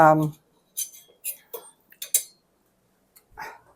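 A utensil scraping and clinking against the inner pot of an Instant Pot while stirring beef and noodles, several short close clinks spread unevenly, with a voice briefly at the start and end.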